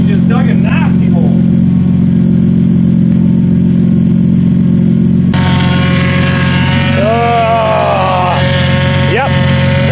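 Car with seized rear brakes spinning its wheels in dirt, a loud steady engine roar that surges sharply about halfway through as the revs climb, with brief squealing tones near the end and a voice over it.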